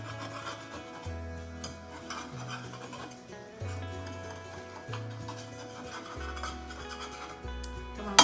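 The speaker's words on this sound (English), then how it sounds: "Let's see if I can get it out of the pan." Ice cream bread with sprinkles being scraped and worked loose from a baking pan, a steady rasping and rubbing of utensil against pan, fairly close, with a low humming tone underneath and no talking.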